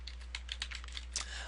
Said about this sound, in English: I could type in there